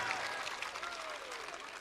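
Audience at a mushaira clapping, a dense steady patter of applause heard from a distance, fairly faint, with a faint voice partly audible beneath it.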